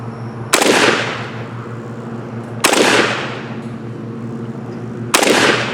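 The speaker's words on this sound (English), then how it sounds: "that was three rounds downrange on the right, on target on the right" Three loud, sharp 5.45x39 rifle shots fired downrange from a Polish Tantal, evenly spaced about two seconds apart, each with a ringing outdoor echo that decays between shots, with no talking.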